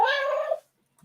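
A cat gives a single short, close meow that fades out within a second, followed by near silence and a faint soft rustle.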